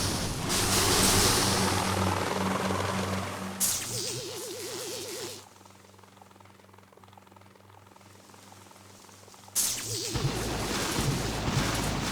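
Helicopters attack in the mobile strategy game Boom Beach, with loud rotor whirring and crashing blasts that drop to a quieter stretch before the game noise surges back.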